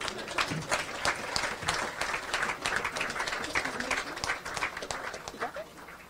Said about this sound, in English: you have to clap for that